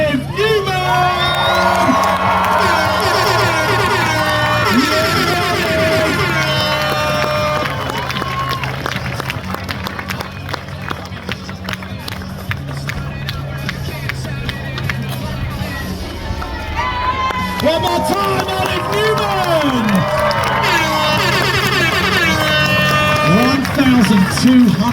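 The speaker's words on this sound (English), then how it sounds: "Let me hear you scream" A large crowd at a skateboarding national championship screams, whoops and cheers loudly and continuously, with a brief lull midway before the roar swells again, and an announcer's voice carries over the noise.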